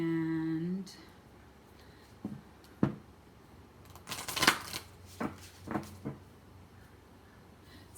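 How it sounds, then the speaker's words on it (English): A deck of angel oracle cards is shuffled by hand: several short crisp riffling bursts spaced over a few seconds, close and clear, following a brief tone at the start, with no talk. "So we're going to do 5 shuffles."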